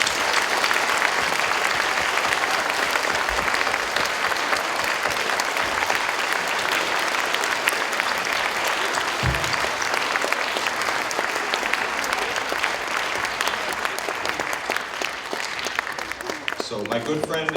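Applause honors a Korean War veteran at a middle school Veterans Day event, a long, steady, loud round of clapping from a large crowd with some voices mixed in.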